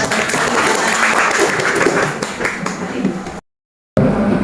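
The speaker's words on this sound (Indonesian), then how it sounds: "Kasih aplaus." A classroom audience claps steadily for a group presentation, dense loud applause that runs without pause, breaks off into brief silence, then resumes.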